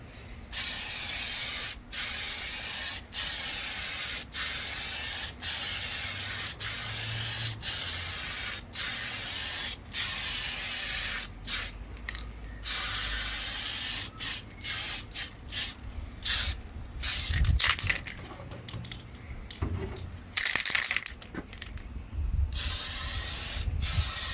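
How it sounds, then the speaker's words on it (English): Spray paint hissing from an aerosol can onto a 1/5 scale Baja RC car body in repeated bursts of a second or two, separated by short gaps, close and loud. "best to spray this outside if possible, or somewhere where there's good ventilation"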